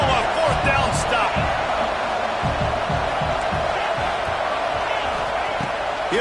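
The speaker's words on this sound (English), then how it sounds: "This crowd busting the decibel meter and trying to will a 4th down stop." Loud stadium crowd in a college football video game during a 4th-down stand, a steady dense roar with rhythmic stomping thuds and chanting pulses underneath, continuous throughout.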